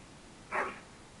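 A single short dog bark from Dragon Age: Origins, one quick sharp yelp that stands out clearly against a quiet background.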